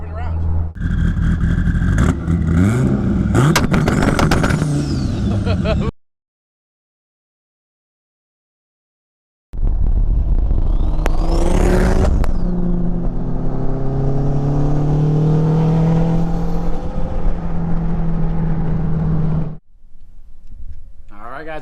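A twin turbo Dodge Viper ACR driving, its engine rumbling and revving loudly up close in bursts, broken by a silent gap, with people talking over parts of it.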